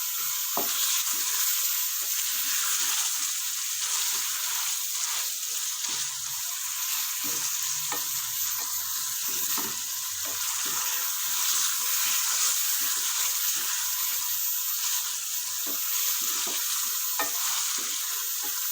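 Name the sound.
chicken frying in garlic ginger paste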